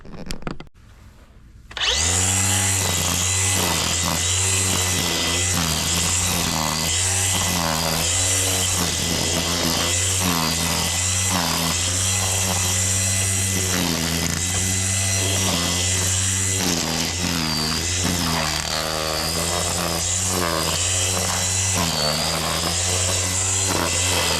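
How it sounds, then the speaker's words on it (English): A string trimmer runs continuously and loud after a brief quiet start, its buzzing motor whine holding steady with slight pitch wobbles as it cuts weeds in a garden. "I'm gonna head over and grab the weed eater and do some weed eating"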